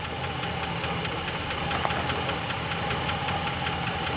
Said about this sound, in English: This thing is idling.